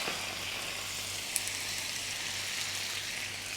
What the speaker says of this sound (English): The whole idea is to lightly just saute the vegetables in the grill.